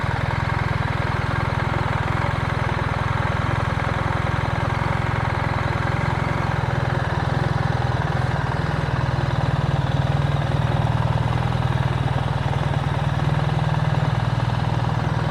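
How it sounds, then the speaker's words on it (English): A motorcycle creeps forward at the clutch friction point with no throttle, its engine idling in a steady low rumble that stays close and even throughout. "So no throttle. I'm just feeling that point where the motorcycle is moving."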